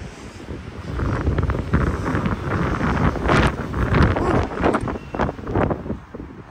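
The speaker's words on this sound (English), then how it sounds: "wind," Strong wind gusts during a snowstorm at Mammoth Lakes, California, with loud buffeting against the microphone that rises and falls in waves.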